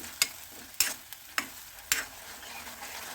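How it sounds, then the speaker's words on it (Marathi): Masala paste with tomato sautéing in oil for a spicy sprouted moth bean curry, soft sizzling under a handful of sharp spatula knocks on the pan spaced roughly half a second apart, close and fairly quiet. "टोमॅटो छान मऊ होईपर्यंत व या वाटणाला छान तेल सुटेपर्यंत हे वाटण परतून घ्यायचं आहे।"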